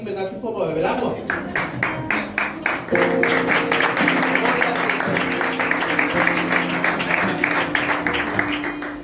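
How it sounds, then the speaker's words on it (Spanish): A church congregation claps steadily at a Benimamet church service, a dense, close wash of hands with a sustained tone or music beneath it and voices mixed in throughout. "Qué bien que me aplaudan así"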